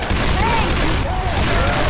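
Shooting at the Tank in Left 4 Dead 2 forms a dense, continuous barrage of loud gunfire, with a voice shouting faintly under the shots.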